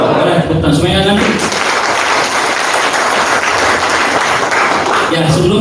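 A seminar audience applauds steadily and loudly for several seconds, a dense wash of clapping with a voice briefly audible at the start and end.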